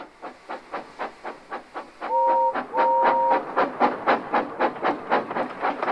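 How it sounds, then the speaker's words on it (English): Thomas the Tank Engine's whistle from Thomas & Friends sounds in two short steady toots over the rhythmic chuffing and clickety-clack of a moving steam locomotive. "Thomas likes to tease Gordon with his whistle"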